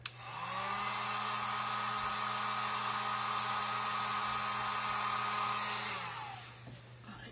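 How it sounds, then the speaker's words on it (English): A heat gun blows hot air in one continuous, even whine and rush, close and steady for several seconds before it cuts off with a click. "I'm going to take my heat gun on this one here."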